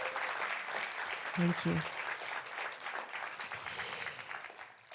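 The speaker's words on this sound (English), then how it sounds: "let's just applaud all those people" Applause from an audience at a Naples book event, a steady wash of many hands clapping at moderate distance, with a brief spoken thanks partway through.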